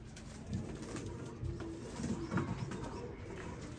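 Teddy and Ferozpure breed pigeons coo softly in a loft, with low, repeated throaty calls heard faintly against steady background noise.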